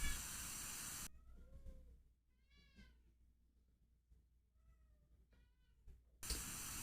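A cat meows several times, faint and indoors, short rising-falling calls spread across a quiet stretch, with a louder noisy room at the start and end.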